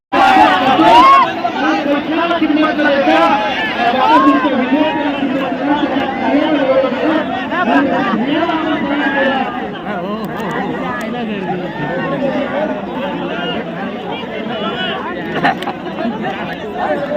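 A large crowd chatters at a bullock cart race in Mahad, Birwadi, a dense outdoor babble of many voices, loud and close, with someone talking through it.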